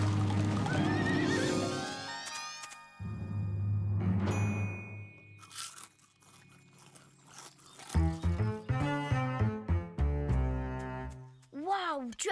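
Horses whinnying loudly several times, with clip-clopping hooves and other cartoonish animal sounds in between.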